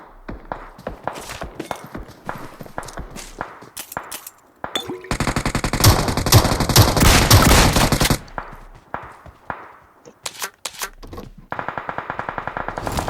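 BGMI mobile battle royale gunfire, including a DBS shotgun, crackles in sharp bursts and single shots, with a dense sustained volley in the middle and another rapid stretch near the end, over faint footsteps.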